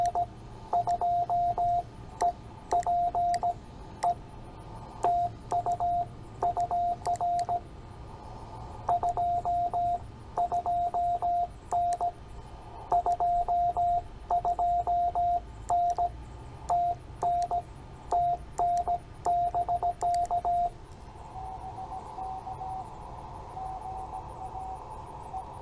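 CW Morse code on an amateur radio band during a park activation, a steady keyed tone sending rapid dits and dahs over a hiss of static, with fading that drops the signal weaker near the end.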